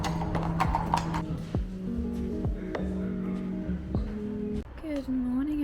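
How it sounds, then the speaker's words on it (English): Horse hooves clip-clop at a steady walking pace in the courtyard of the Spanish Riding School in Vienna, clear and close, with people talking in the background. "We ended in the courtyard where there was one horse that we were allowed to take pictures of."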